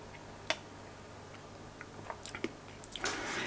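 A person chews food made from beetroot. The sound is quiet and close, with sparse small crunches and clicks of biting over a faint background hum, and no talking.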